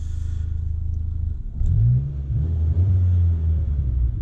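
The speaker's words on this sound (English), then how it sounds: "When you rev it, it sometimes doesn't sort of come back down to the right idle, or it idles too low and it cuts out of junctions" A Mk1 Renault Clio engine with an idling fault revs up sharply, then drops into a deep, uneven low rumble at idle, close and alone with no voices.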